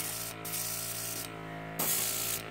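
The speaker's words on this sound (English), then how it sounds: "So we're just going to kind of spray it on them." An airbrush sprays unreduced paint onto Guild Ball Mason miniature figures, a steady hiss over a constant mechanical hum, with short louder bursts as the spray flows. No one speaks.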